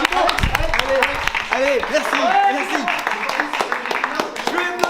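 A group claps for a cameraman on a film set, scattered sharp claps under lively overlapping voices and laughter, close and loud.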